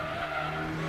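Car in the video game Gran Turismo 2 skidding around a turn, a short, close tire squeal over a sustained engine tone, with no voices.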